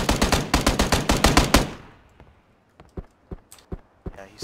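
Automatic gunfire in the battle royale game PUBG, a rapid close burst of about a dozen shots followed by scattered single shots and clicks, with faint voices.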